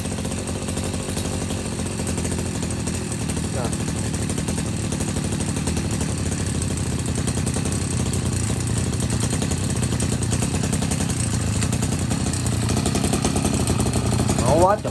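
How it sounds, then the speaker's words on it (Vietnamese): A Shindaiwa S231 23cc backpack brush cutter engine runs continuously up close, a steady buzzing idle that rises slightly near the end. "Máy nổ là cực kỳ êm nha."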